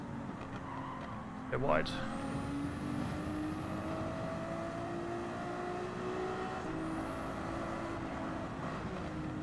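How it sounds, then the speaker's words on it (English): A Ferrari 296 race car in Gran Turismo 7 holds a steady, droning engine note with a brief tire squeal early on and rising gear tones, a voice briefly speaking over it. "So yes, I am driving the Ferrari 296."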